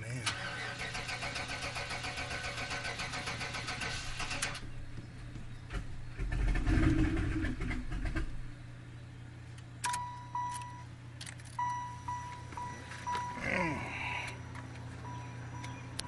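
A wagon's engine cranks over and over without catching, first in a long steady churning run and then in shorter bursts. A few clicks and ticks come between the attempts, close up, with no talk.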